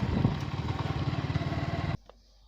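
A motorcycle ridden along village roads in cold weather gives a close, steady rhythmic chugging engine pulse for about two seconds, then cuts off abruptly, leaving faint quiet background.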